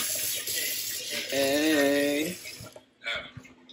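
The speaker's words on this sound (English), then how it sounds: "I'm gonna rinse this out real quick" A tap runs as something is rinsed under it, giving a steady close hiss of water that cuts off about two-thirds of the way through, with a short spoken word and a bit of voice over it.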